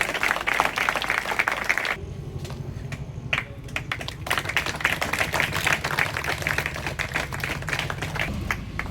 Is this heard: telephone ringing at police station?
no